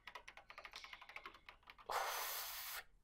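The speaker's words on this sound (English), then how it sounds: "she recovered just as fast and quickly began typing" Rapid keyboard typing from the Danganronpa video game, a quick run of clicking keystrokes followed by a short hiss-like burst, heard alone at a low level.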